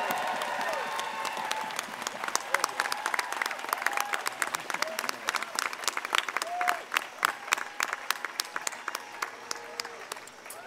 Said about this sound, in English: giving them a huge round of applause for their commitment to our